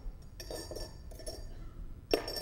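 Butter knives and a drinking glass clink together in a few light, sharp taps spread across a couple of seconds, ending in one brighter ring, with no one speaking.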